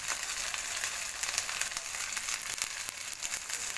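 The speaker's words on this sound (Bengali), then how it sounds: "দেখুন মশলাটা আমি কষাচ্ছি।" Masala spice paste fries steadily in a pan with turmeric stirred in for a village-style egg curry, giving a dense, continuous close sizzle with fine crackles and no talking.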